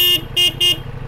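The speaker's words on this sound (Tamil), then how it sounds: "ஹார்ன் காமெடியா இருக்கு." Horn of a Ducati Multistrada V4S motorcycle sounding three short, evenly spaced toots, loud and close, over a low idling rumble.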